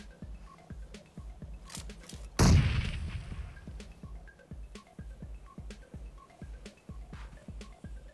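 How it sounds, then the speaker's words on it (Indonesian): A bomb strikes the red zone in the mobile battle game PUBG Mobile: one heavy, loud blast that rumbles and slowly fades over a couple of seconds, set against a steady rhythmic clicking in the background. "Bom ya."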